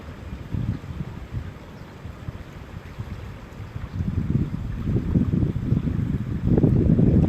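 Water moving outdoors under steady wind, a continuous low rushing wash with wind buffeting the microphone, swelling louder toward the end.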